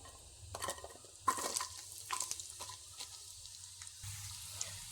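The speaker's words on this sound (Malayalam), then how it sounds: "ഇനി നമുക്കതിലേക്ക് ചെറിയ ഉള്ളി ചെറുതായിട്ട് അരിഞ്ഞതാണ് ആ എണ്ണയിലേക്ക് ഇട്ട് കൊടുക്കാം" Finely chopped shallots fry in coconut oil for a Kerala chicken dish, giving a faint, soft sizzle broken by light scraping stirs and brief clinks from the pan.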